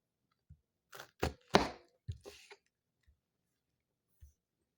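A kitchen knife chops vegetables for instant pot beans on a cutting board, a handful of crisp, close knocks in an uneven rhythm separated by silence.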